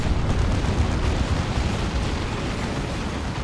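The Executioner Pistol fires in the Warhammer 40,000: Dawn of War 2 video game, heard as a dense, continuous rumble of battle blasts and booms, loud and low-heavy, with no distinct individual shots.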